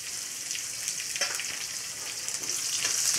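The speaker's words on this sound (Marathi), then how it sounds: "हे चांगलं फ्राय करू, लसूण जिरे हिरवी मिरची टाकूया" Garlic, cumin seeds and green chillies fry in hot oil for a dry dill and moong dal dish, making a dense, even sizzle up close with faint stirring ticks.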